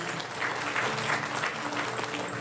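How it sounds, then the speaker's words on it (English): An audience gives sustained, fairly even applause for officers at a valedictory address, many hands clapping together in a dense steady patter. "please help me thank them by giving them a well-deserved round of applause"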